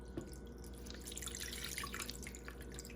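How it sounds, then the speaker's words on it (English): About a cup of water pours from a tap into a pan of meat sauce for lasagna, a steady splashing trickle with scattered drips, close and fairly quiet. "So what I do is I go and I add about a cup of water"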